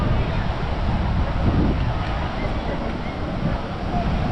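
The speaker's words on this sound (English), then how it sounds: "Loads of waves coming in, loads of people surfing." Surf rolling in at a crowded high-tide beach in Morocco where people are surfing, a steady broadband wash of breaking waves with wind noise on the microphone and no clear pauses.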